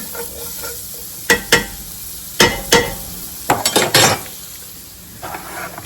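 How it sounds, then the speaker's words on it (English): Chopped onion cooks in a pan on a home stove, with a low steady sizzle under several sharp scraping stirs of a utensil against the pan, close and fairly loud in bursts. "And now I'm just adding in 1 medium chopped onion."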